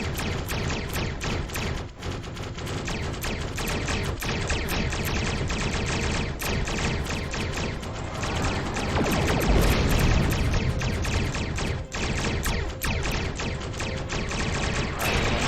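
Continuous space-combat weapon fire in the Star Trek Online game, with torpedo launches and dense rapid blasts forming a loud, unbroken barrage, a heavier burst near the middle.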